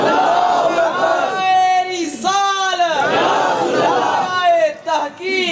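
A crowd at a religious conference chants slogans in loud unison, with several rising and falling call-and-response shouts ringing out in a large space.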